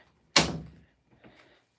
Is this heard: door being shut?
yes